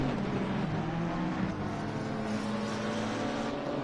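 Race cars in an esports sim race at Imola drone steadily together, a continuous engine roar with sustained tonal whine that holds at an even loudness for about four seconds, without any talking.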